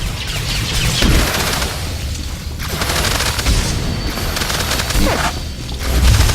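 A Star Wars video game battle in the Cademimmu flashpoint: rockets fire in a loud, continuous barrage of blasts and gunfire-like bursts, with heavier booms punching through near the start, middle and end.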